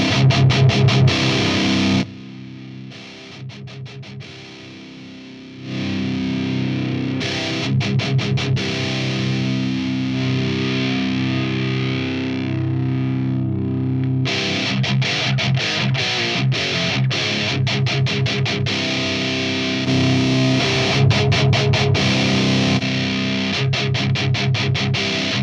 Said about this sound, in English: the B section of the channel 1 is good enough for a rumbling metal sound